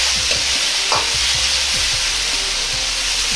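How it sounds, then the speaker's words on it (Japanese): Steady loud sizzling of doubanjiang and ginger stir-frying in hot oil, with repeated scraping and clacking of a utensil stirring the pan. "ここで豆板醤と生姜を油になじませるように炒めます。"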